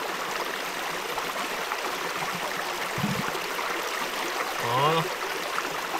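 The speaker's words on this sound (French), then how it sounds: "je vais remplir une gourde filtrante. Comme ça, je pourrai boire de l'eau fraîche de la rivière sans risque" Mountain river flowing steadily near Villard-de-Lans in the Vercors while a filter water bottle is filled, a continuous close rush and gurgle with a brief bubbling swirl near the end and a short spoken word.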